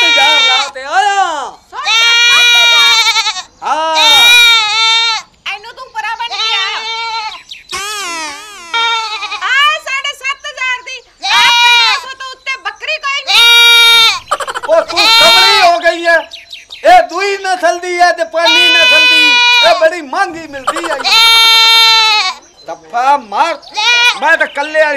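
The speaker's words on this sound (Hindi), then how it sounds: "किन्नी सोहनी बकरी ले आया मैं, पूरे सात सात हजार लाते आया।" A goat in a Punjabi comedy sketch bleats loudly and repeatedly at close range, with wavering, quavering cries coming in bursts and short pauses between them.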